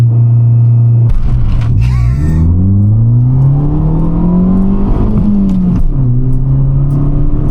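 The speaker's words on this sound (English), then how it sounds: "About to launch the Fiat 500" A Fiat 500 launches hard with launch control, its engine loud and close, revving and then climbing steadily in pitch as it pulls away under sustained acceleration, with a brief dip partway through.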